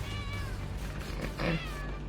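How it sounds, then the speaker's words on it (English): A cat meows loudly and close by at a table during a Commander card game, a couple of drawn-out, rising and falling cries over a steady low background hum. "but my cat Meatball has a response"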